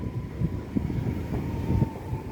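A train rumbles steadily through Chorzów Batory station, a continuous low rolling drone with faint wheel clicks and a thin steady whine, heard nearby and with no talking.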